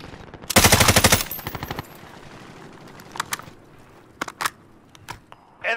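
Rapid automatic gunfire from a battle royale video game, a loud dense burst near the start followed by a few trailing shots, then scattered sharp single shots and cracks over quieter game background.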